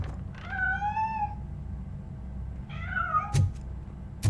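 A cat in the video game Robocop: Rogue City gives two separate drawn-out meows, each rising and then falling, followed by a few sharp knocks. No one speaks.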